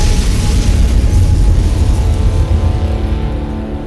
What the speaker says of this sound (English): proceed to rig up the atomic bomb in the middle of town, which requires a level 25 explosive skill, and then head to Tenpenny Tower to watch the fireworks